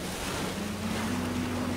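Waves breaking on a stormy, rough sea during a night storm, a dense continuous roar of surf and wind with a low steady hum underneath, no voices.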